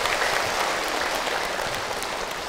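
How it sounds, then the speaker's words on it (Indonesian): Audience applause at an Indonesian Islamic sermon event, given for a woman who asked a question: dense, steady clapping from a crowd at even loudness for the full length, with no talk over it. "Tepuk tangan buat Bunda yang bertanya"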